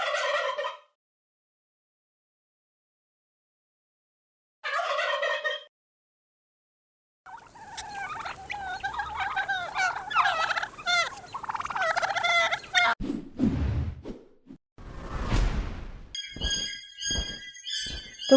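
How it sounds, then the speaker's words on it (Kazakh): A turkey gobbles loudly in several bursts. Separate calls are broken by silence, followed by a longer, busier stretch of repeated gobbling with other fowl sounds and background noise. "Күрке тауық."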